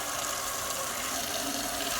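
Water being mixed with baking soda for a relic neutralizer, a steady close rushing and gushing of liquid that stays even throughout, with no voices.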